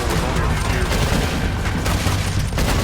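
Dense, continuous volleys of gunfire from a shootout at an outlaw camp in Red Dead Redemption 2 fill the scene loudly, with overlapping shots and booms and a voice underneath.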